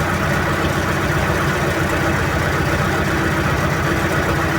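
A tractor engine idles steadily with a low, chugging rumble, constant and loud, with no voices.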